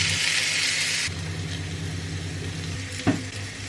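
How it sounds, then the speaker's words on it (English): Vegan burger patties frying in oil in a pan, giving a steady, close sizzle that stays loud throughout, with a brief clatter near the end and no talking. "Burgers are sizzling away."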